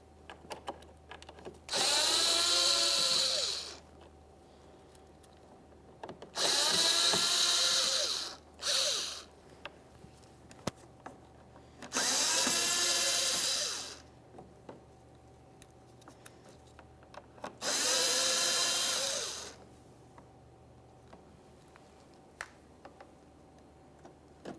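A power screwdriver backs out Phillips head screws from a bumper bracket on a 2014-2018 Mazda 3, four separate whirring bursts of a few seconds each with quiet pauses between.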